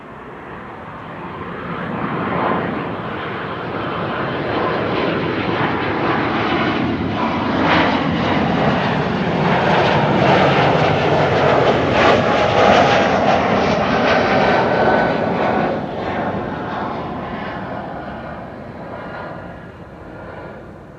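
A KLM jet airliner departing Amsterdam Schiphol for Wrocław, heading to runway 18 left, gives a sustained, loud engine roar that swells to a peak midway and then slowly fades, with no talk over it.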